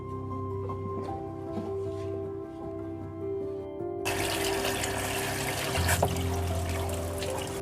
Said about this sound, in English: I'm gonna wash all of them together